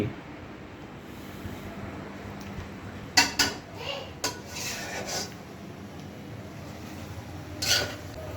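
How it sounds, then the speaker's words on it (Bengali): Pot and utensils clatter while chicken noodles cook in a home kitchen, with a few sharp metallic knocks and scrapes in the second half over a low background hum. Voices talk nearby. "চিকেন লুডোস রান্না করতেছে"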